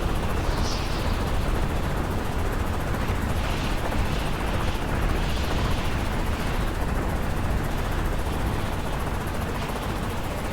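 Rockets and ground fire in a naval island-capture battle game keep up a steady, loud roar with dense rumbling and a few faint bursts on top, and no break over ten seconds.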